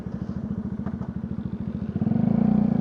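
A Bajaj Dominar 400 motorcycle engine with a low battery idles with a rapid, even putter, then revs up louder and deeper near the end; close by, no voices.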